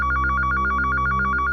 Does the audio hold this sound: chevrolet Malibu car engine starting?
no